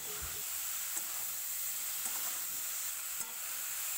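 Broccoli and mixed vegetables cooked with spices in a pan give off a soft, steady sizzle, with faint occasional scrapes of stirring.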